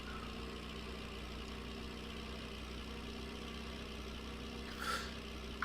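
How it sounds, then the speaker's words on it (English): Old tractor engine in a farming game runs hard with a steady, even rumble and low drone, continuous and moderately loud, with a brief rise near the end and no voices. "This thing is have to work hard, this poor old tractor."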